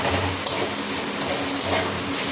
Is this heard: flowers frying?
yes